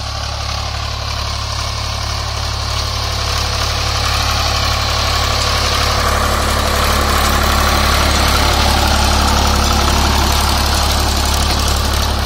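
A Swaraj 735 FE tractor's engine idles steadily and loudly at close range, a deep constant drone with a faint rise in level over about twelve seconds and no talk.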